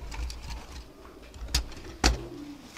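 A female pigeon, a highly prized breeding bird, coos softly while two sharper thumps stand out near the end over low background noise.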